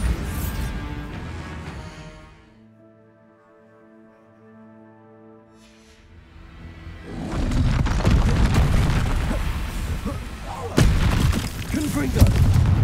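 A Bombarda explosion spell goes off in the Hogwarts Legacy video game's Dark Arts side mission, a loud crashing boom that swells into heavy rumbling impacts after a quieter stretch of sustained tonal ambience.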